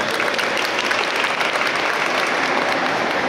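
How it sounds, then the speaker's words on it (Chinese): Dense, continuous applause fills a group wedding ceremony held by Taiwan Railway at Taipei Station, a steady wash of many hands clapping at close range with no break. "掌声。"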